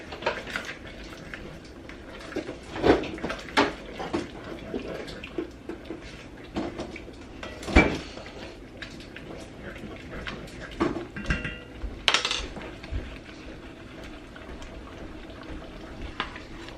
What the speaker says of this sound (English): I'm going to add that kale, the frozen kale. I'm going to stir that in here.